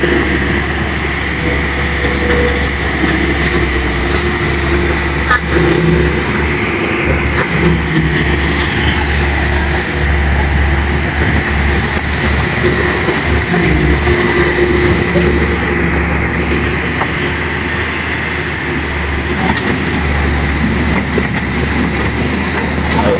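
Heavy rain pours steadily at a river normalization site while an orange excavator works with low engine rumble beneath the continuous downpour hiss, loud and unbroken throughout.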